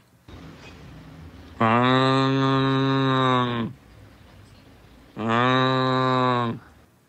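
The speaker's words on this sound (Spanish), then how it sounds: "Ella es vaca lechera" A dairy cow moos twice, long and loud, with a short pause between the calls over faint background noise.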